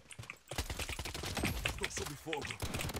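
Automatic gunfire in the Blood Strike shooter game, rapid bursts of shots with someone talking over them throughout.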